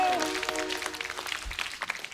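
Studio audience applause on a Hindi comedy talk show, a thick wash of clapping under music with a sustained tone at first, fading slightly toward the end.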